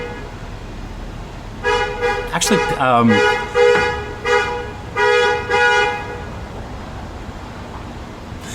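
A car horn sounds in an alley with several separate toots of varying length spread over a few seconds, fairly close and clear. A person speaks briefly, and low background noise continues underneath.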